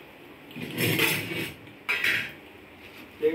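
A plate being taken up among dishes, two bursts of ceramic clatter and scraping followed by a sharp clink at the end, close by and with no talking.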